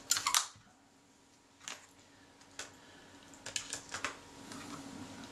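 Back of a Kodak Retina IIIc film camera shut during reassembly, heard as a few sharp mechanical clicks and snaps in a quiet room, one cluster at the start and scattered clicks later.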